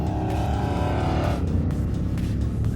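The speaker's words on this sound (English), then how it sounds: "This truck is super loud" Loud truck engine running close by, a steady heavy rumble with a higher tonal whine that drops away partway through, engine noise dominating without any talk.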